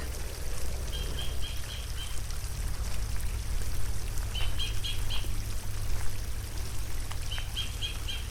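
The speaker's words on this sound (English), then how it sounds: "I think what we can hear is another very happy bird." A small bird sings repeated bursts of quick, bright chirps, several phrases spaced apart, over the steady rush of a small stream in a New Zealand park.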